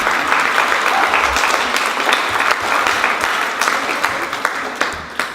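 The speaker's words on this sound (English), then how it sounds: "You all know you can clap." Audience applause fills a closing ceremony for a Phi Theta Kappa leadership development course, a dense, steady wash of clapping hands that carries on without a break from start to finish.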